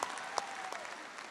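A college convocation audience claps steadily and evenly throughout, a dense, moderately distant round of applause with a few sharper individual claps and no talking.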